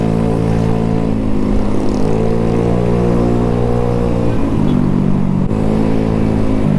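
Honda Scoopy scooter engine droning steadily while riding on a Sunday group ride, a loud, close, even hum with slight pitch shifts as the throttle changes, under rushing wind.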